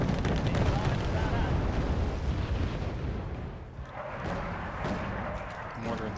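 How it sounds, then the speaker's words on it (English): Mortar fire in the video game Wargame Red Dragon rumbles as continuous heavy booms and blasts with dense low crackle, loud throughout and easing slightly toward the end. "Seems like they're single mortars."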